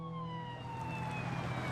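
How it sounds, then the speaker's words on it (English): An ambulance siren wails steadily and loudly, its falling tone sustained as the vehicle arrives, over low engine rumble. "The ambulance just arrived."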